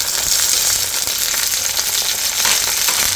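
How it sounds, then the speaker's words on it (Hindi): Sliced onion and guar (cluster) beans fry in a hot home-kitchen pan, a steady, dense sizzle that holds close and loud for the full few seconds with no talking. "हल्का सा प्याज फ्राई हो गया है तो अब ये फलियाँ डाल देंगे"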